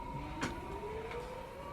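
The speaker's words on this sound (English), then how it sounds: "The sirens you hear are ringing to warn the people to evacuate the city as the Martians approach." Sirens wailing over a city as Martians approach in a live radio drama staging of War of the Worlds, heard as a steady rising tone with a faint sweep, distant and held under a noisy broadcast-style background.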